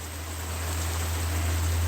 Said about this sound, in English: Oh, the rain is getting heavier.